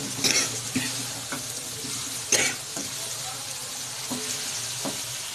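Chicken browning in a hot pan gives a steady close sizzle, with scattered clinks and scrapes of stirring and a few sharper knocks along the way.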